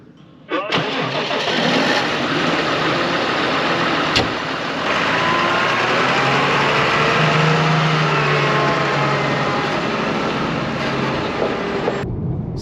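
A tractor engine cranks and starts, then runs at a steady, loud rumble before cutting off at the end, during first-cut silage work on a farm in Cheshire, UK.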